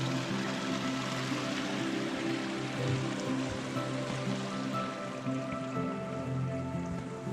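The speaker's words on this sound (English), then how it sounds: "That wee stream there is feeding us." A small forest stream near an old stone bridge flows steadily, a continuous close wash of trickling and babbling water with no voices.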